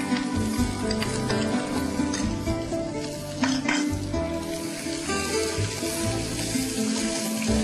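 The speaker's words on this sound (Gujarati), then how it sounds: "કાંદા ગુલાબી થાય ત્યાં સુધી સાંતળવાના" Finely chopped onion and garlic sizzle steadily in hot oil in a pan while cooking chhole, a continuous close frying hiss with occasional stirring clinks throughout.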